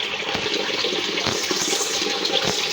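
Water runs steadily from a tap while dishes are washed by hand, a continuous rushing splash with faint clinks, close and fairly loud with no talk.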